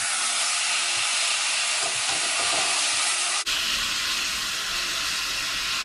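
Pork sizzles in hot oil with browned minced garlic for pork adobo, a loud, steady hiss of frying that runs throughout with no talking, and the sputter grows denser partway through.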